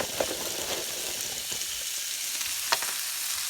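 Frozen peppers hiss and crackle as they fry alongside prime rib steak, a steady close sizzle with an occasional sharp spatter.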